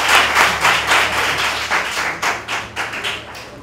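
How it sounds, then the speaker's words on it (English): Round of applause from an audience at a mini durbar in Abume, loud uneven clapping with pulsing swells that thin toward the end. "Let's all welcome Mrs. Ruby Educhum with a round of applause."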